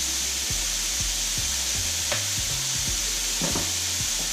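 Vegetables sizzle steadily in a hot pan after a pinch of salt, a continuous frying hiss with a few scraping stirs breaking through; no talking.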